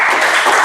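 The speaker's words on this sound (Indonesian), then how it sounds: "Tepuk tangan luar biasa." Students in a junior high classroom at a Catholic school in Manokwari clap together in a brief, loud, close burst of applause.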